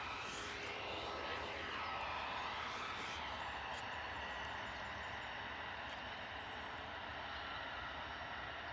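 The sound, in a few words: EasyJet Airbus A320 jet aircraft arriving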